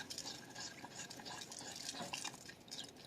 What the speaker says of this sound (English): Now at this point, I'm using a whisk.